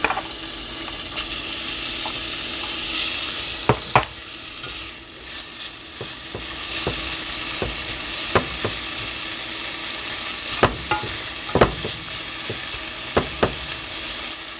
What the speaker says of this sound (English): After heating the pan, let's first put the bacon in it.